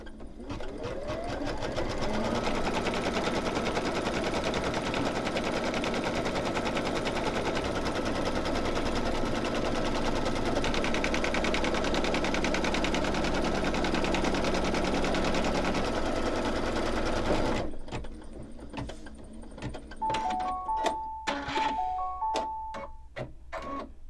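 An embroidery machine stitching a snowman mug rug runs a loud, steady, rapid needle chatter for about eighteen seconds, then stops, leaving a few sparse clicks and beeps.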